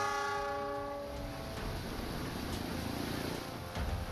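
A train rolls across a rebuilt rail bridge on the Linggapura–Bumiayu line in Brebes, Indonesia, opening with a sustained multi-tone horn that fades after a second, then a steady loud rumble of the train continuing throughout.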